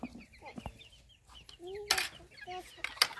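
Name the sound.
frizzle chickens clucking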